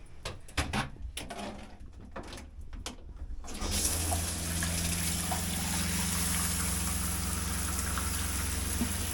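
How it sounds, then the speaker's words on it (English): Water from an Airstream trailer shower runs pink with antifreeze during winterizing: faint drips and handling noises first, then a steady, full hiss of spray hitting the shower pan that holds unbroken to the end, with no voices. "The shower is running pink"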